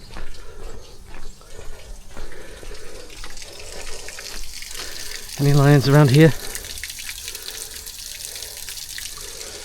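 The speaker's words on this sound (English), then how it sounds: "I can actually hear some running water." Running water trickles softly and continuously in a rock garden within botanical gardens, a faint background flow under intermittent talking and a brief louder vocal moment.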